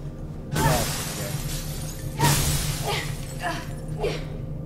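Glass shattering in the video game Mirror's Edge, heard as a series of bright crashing bursts, two strong and a few smaller, over a steady hum of game ambience.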